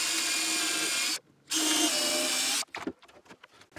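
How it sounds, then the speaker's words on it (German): A power drill bores a screw hole into wood, a loud high whine that runs for about a second, stops, runs again, then trails off into rattling clicks and knocks. "Deshalb werde ich jetzt da eine Schraube reinsetzen. Und zwar hier einfach mal reinbohren."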